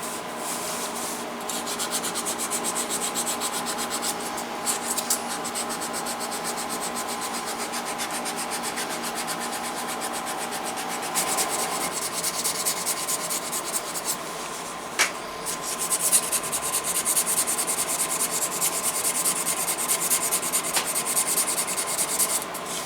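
Sandpaper of 220 grit rubs back and forth over the face of a budget leathercraft hammer, working out file marks in a continuous, close scratching with a brief break partway through.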